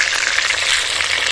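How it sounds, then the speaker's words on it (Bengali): Cabbage fries in a pan for a vegetarian bhog dish, a close, continuous crackling sizzle with light stirring scrapes, no voices heard. "বাঁধাকপিটা ভালো করে কিন্তু ভেজে নিতে হবে, ভেতরে যাতে কাঁচা না থাকে।"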